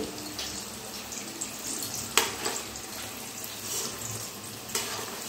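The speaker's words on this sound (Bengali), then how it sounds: "এবারে খুবই হালকা হাতে এই আলুগুলো নাড়াচাড়া করে ভেজে নিতে হবে।" Potato sticks for homemade French fries fry in hot oil over a medium flame, a steady close sizzle broken by occasional sharp clinks and scrapes of stirring.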